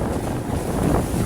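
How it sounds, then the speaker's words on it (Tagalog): Big ocean waves wash around a fishing outrigger boat out on the Pacific, a steady loud rush of water and wind buffeting close by with no talk. "Lalaki ng alon."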